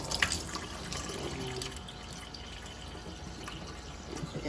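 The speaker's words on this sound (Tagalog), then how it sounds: "And wet the towel. And let it drip a bit." Water trickles and drips from a wet towel into a microgreen tray at a tap, a faint patter of small droplets with a few brighter splashes near the start.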